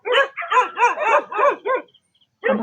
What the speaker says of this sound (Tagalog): Aso, tingnan mo.